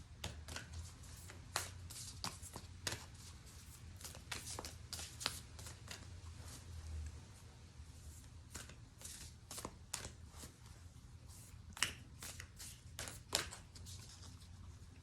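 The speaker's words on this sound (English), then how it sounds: "I have one more shuffle, guys." Repeated crisp riffles and flicks of tarot cards being shuffled, coming in quick irregular bursts, close and fairly quiet with no talking.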